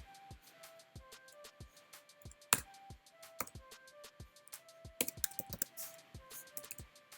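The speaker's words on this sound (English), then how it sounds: "I'm having trouble typing right now" Rapid irregular keystrokes on a computer keyboard while building a pasta timer app, with clustered taps and occasional sharper clacks, quiet and close, with no talking.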